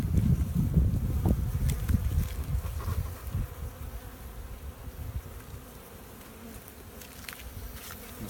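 Honey bees buzz around open beehives, a dense droning hum of many insects with individual bees passing close to the microphone, louder at first and then settling into a softer steady buzz.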